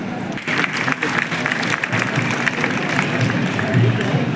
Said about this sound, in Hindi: जोरदार तालियां आपकी बजती रहे।